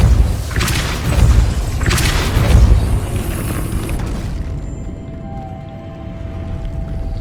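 Two heavy booming Depulso force-spell impacts from Hogwarts Legacy land about a second apart, each a loud thudding whoosh, before the sound fades into a quiet, low ambient hum.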